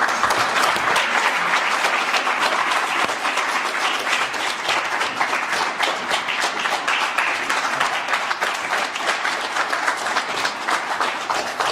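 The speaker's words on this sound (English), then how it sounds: "I join everyone in applauding" Sustained applause from a graduation ceremony audience, a dense and loud wash of many hands clapping continuously from start to finish.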